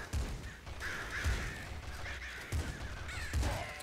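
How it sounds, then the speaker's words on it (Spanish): Crows caw in a video game, several harsh calls spaced out over a few seconds, fairly close against quiet low ambient rumble, with no speech. "No puedo ser amigo de los cuervos."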